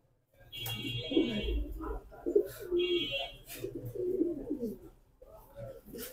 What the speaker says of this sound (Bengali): এই যে নর কবুতরটি দেখেন, মাশাআল্লাহ অনেক বড় সাইজের, বিগ সাইজের কবুতর